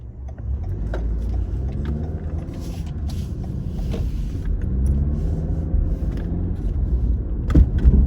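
A 2018 Toyota Camry LE engine floored from low RPM at full throttle, a steady droning rumble with rising harmonics that holds loud and continuous, swelling slightly near the end.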